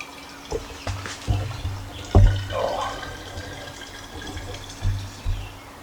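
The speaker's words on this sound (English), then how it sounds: "start filling my bottles" Homemade blackberry and strawberry wine pouring into bottles, a gurgling fill of liquid with drips and a few knocks of glass, close by under a low background hum.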